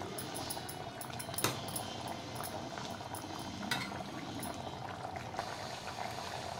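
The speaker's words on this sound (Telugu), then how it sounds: "చూడండి ఎంత మంచిగా ఉడుకుతుందో." A pot of high-protein curry bubbles steadily at a simmer, a dense close hiss of small pops and blips that carries on without a break under occasional faint clicks.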